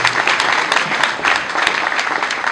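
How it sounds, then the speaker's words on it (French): Audience at an inauguration ceremony for new buildings clapping loudly, a steady, close burst of applause with crisp individual claps throughout. "Applaudissons encore très fortement."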